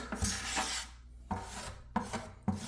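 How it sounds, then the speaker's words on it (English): A stick scrapes mixed epoxy out of a bucket in four short rasping strokes, each a gritty scrape with a sharp onset, close up and separated by brief pauses. "I'm just gonna scrape this out with a stick."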